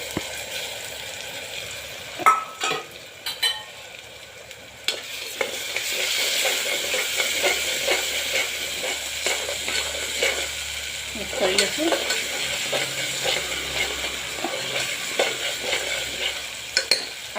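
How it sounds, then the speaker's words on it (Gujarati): Chopped tomato frying in a pan with sprouted chickpeas and peanuts nearby, a continuous close sizzle with steady stirring scrapes and a few sharp utensil knocks early on, loud and without talk. "ટામેટાને બે મિનિટ જેવું શેકાવા દેવાનું છે"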